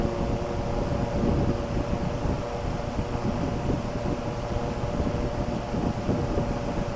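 A 90 watt BLDC cooler motor with its fan blade runs in boost mode at about 1435 RPM, giving a steady, loud whooshing roar with a faint tonal hum and no pauses.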